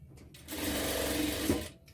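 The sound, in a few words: sewing machine stitching pant fabric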